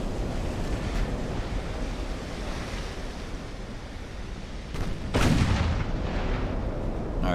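In the naval game Ultimate Admiral: Dreadnoughts, battleship main guns fire and shells strike under a constant roaring, surf-like wash. A heavy boom hits just past the midpoint and lingers.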